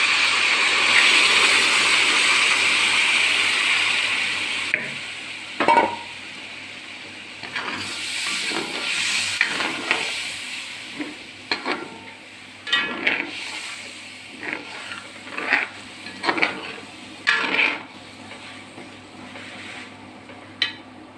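Boiled water is poured into a hot fish pickle masala, giving a loud rushing hiss that fades after several seconds. Sputtering bursts and pops follow for the rest of the clip.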